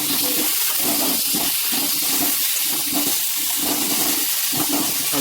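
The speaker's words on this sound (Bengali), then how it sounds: "একটু নুন হলুদ দিয়ে ভাজছে" Potatoes frying in oil with salt and turmeric, a steady loud hissing sizzle that stays constant throughout with no talk.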